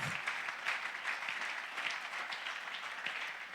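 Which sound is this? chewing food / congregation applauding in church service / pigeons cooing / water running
congregation applauding in church service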